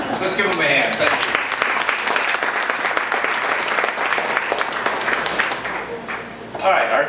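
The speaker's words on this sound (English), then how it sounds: "Let's give them a hand" Audience applause at a city council candidates forum in Oxnard, honoring the whole candidate panel; dense, sustained clapping from a crowd filling the room, easing slightly toward the end before a brief swell.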